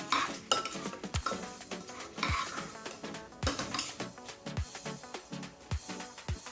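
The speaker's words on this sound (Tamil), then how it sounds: "இது கொஞ்சம் நேரம் வதக்கிக்கிறேன்" Soaked everyday rice being sautéed in a pan, with repeated spoon scrapes and clinks against the metal over a low sizzle, steady and close with a few sharper knocks.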